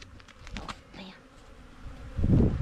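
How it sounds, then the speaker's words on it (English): Africanized honeybees buzz in a low, restless drone close by, stirred up during a hive removal from a camper, with a louder rumbling burst near the end. "The bees are getting a little bit stirred up now that the first honeycomb was removed."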